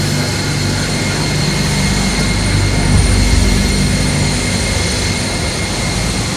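An Airbus A319 used as the French presidential jet sits on the tarmac, its engines producing a loud, steady, close roar with a deep low hum and a constant whine, with no voices.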